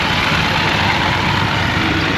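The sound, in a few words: tractor engine running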